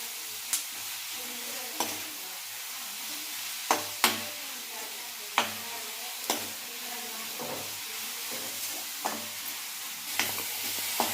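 Thick onion paste sizzles softly in a pan while a spoon scrapes and stirs it in regular strokes, about one every second or so.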